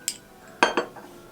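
A spoon stirs sour cream into a bowl of rassolnik soup in a St. Petersburg restaurant, a few sharp close clinks of metal on the dish spaced by brief pauses.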